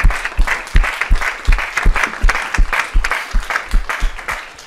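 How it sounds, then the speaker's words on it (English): Audience applause after an evening talk on race and power, hands clapping together in a strongly rhythmic, unison beat, loud and close, with a few low thumps under it. "Please give him a round of applause."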